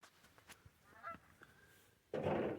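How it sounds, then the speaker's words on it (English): Geese flying south in formation over a greenhouse: a few faint honks at a distance, then a louder, rougher burst of noise at the end. "Beautiful formation of geese flying south for the winter."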